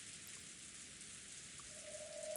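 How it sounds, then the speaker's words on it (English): Steady pouring rain falling evenly across the ground, a dense continuous hiss of drops, with a faint tone rising near the end; no voices. "The pouring rain landed evenly across the ground everywhere."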